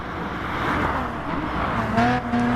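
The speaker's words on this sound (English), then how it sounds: "As Gator goes by Car Freak for the lead." NASCAR stock cars racing at Mount Panorama in the GT Sport video game pass with a steady, loud engine drone and shifting pitch, with no voices over it.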